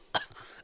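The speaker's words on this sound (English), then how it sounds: "I think I got a kennel cough." A single sharp cough, close and fairly quiet, followed by a short breathy tail in an otherwise quiet room.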